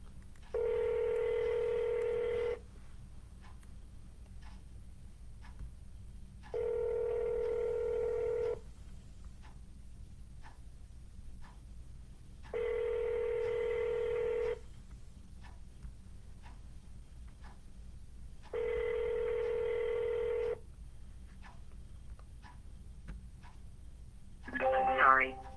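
Keypad tones from a phone being dialed for real estate cold calls: four evenly spaced bursts of steady beeping, each about two seconds long, with quiet pauses between them and a brief higher chirp at the end.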